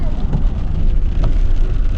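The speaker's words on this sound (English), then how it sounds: "Wasn't even supposed to rain today at all." Heavy monsoon rain falling outside an open car window, a dense steady hiss of drops with rumbling wind buffeting throughout, close and loud, with no talk.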